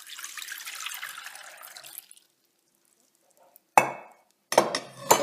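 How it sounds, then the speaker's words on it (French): Tap water runs briefly and splashes over colored spherification beads in a filter, then stops; after a pause, a couple of sharp clinks and splashes follow nearby. "Et je rince à l'eau du robinet."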